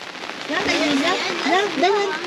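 Rain patters steadily on surfaces at a wet bivouac campsite, a dense, close hiss heard throughout while a voice rises and falls over it.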